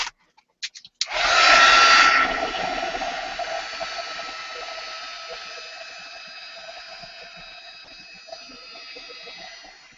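A heat gun switches on after a few faint clicks and blows steadily to dry a mixed media canvas, a loud, constant whooshing hiss that eases slightly and holds for several seconds.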